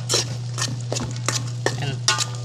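A utensil stirs corn and browned hotdog in a cooking pot, with repeated scraping and clinking strokes in an uneven rhythm over a steady low hum, close and moderately loud.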